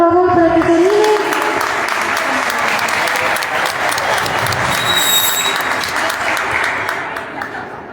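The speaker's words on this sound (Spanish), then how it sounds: "Un fuerte aplauso, por favor" Strong, sustained applause from an audience at a family history contest evening in Mezcala de los Romero fills the space, dense clapping that fades gradually toward the end, with voices mixed in.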